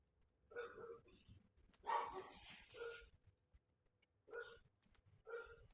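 Several dogs bark in short bursts, with a cluster of barks near the start, a dense flurry in the middle and two more separate barks toward the end, moderately close against a quiet background.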